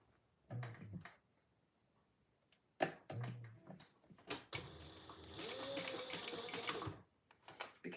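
A sewing machine stitches down the side of a fabric travel case with narrow elastic, a few short bursts early on and then a steady run of several seconds, close and moderately loud.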